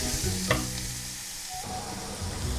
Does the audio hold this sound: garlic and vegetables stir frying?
yes